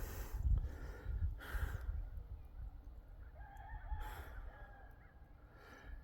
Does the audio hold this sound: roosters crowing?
yes